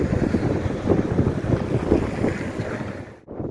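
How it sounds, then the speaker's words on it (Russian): Strong wind buffets the microphone in a steady, rough roar with gusty swells, and waves or water faintly beneath, no voices. "Ветер с ног сдувает."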